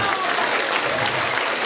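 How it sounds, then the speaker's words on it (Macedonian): An audience at a school celebration for Saints Cyril and Methodius applauds a student, a short, dense and steady burst of clapping from a full hall. "Заслужува аплауз, нели?"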